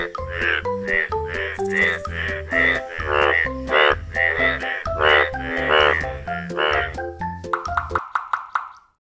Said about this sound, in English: Very good. Frog.